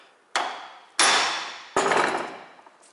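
Three sharp, loud hammer blows strike a U-joint cap clamped in a vise during a 1995 Jeep Cherokee XJ front axle repair. Each metallic bang rings out and fades before the next.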